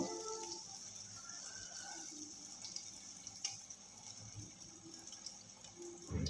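Rice-flour and jaggery pithas frying in a pan of oil over low to medium heat, giving a steady, close hiss of sizzling with a few faint clinks, and no talk.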